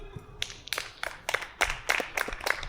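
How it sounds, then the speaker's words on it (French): A small group claps in scattered, uneven bursts, several hands striking irregularly at moderate loudness, close by and with no other sound. "applaudissez tous"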